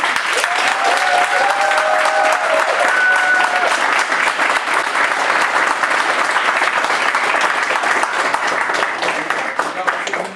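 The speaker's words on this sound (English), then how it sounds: "I want all the students to give a warm round of applause to all the leaders." Students at a community college leadership event give their student leaders a warm round of applause, a thick, continuous wash of many hands clapping for about ten seconds, with a few voices calling out through it.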